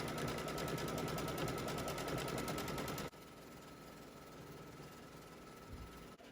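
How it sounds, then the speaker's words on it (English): A sewing machine stitches a floral quilt block, a fast even mechanical rattle running loud for about three seconds, then stopping abruptly, leaving a quieter hum. "Now as we stitch, we're going to be very mindful of where our needle is going, and if we needed to push our start stop button real quickly"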